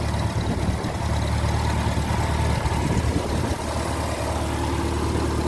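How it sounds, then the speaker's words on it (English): A 1956 Farmall Cub Lo-boy tractor runs at a steady idle close by after starting, its engine a continuous loud chugging drone with no talk over it. "Let's see if the tractor starts now."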